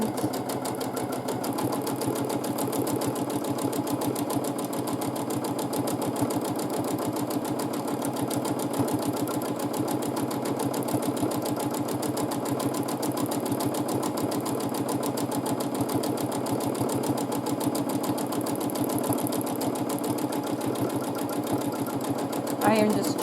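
A domestic sewing machine runs steadily through free motion quilting of an arches-based design, a continuous close mechanical hum lasting throughout, with a faint voice talking beneath it.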